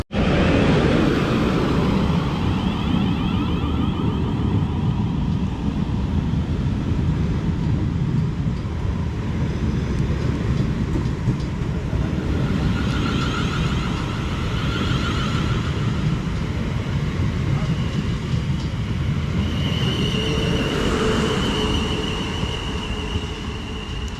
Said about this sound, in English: departing out there is 450-102 and 450-004. Heading off to Basingstoke from Portsmouth Harbour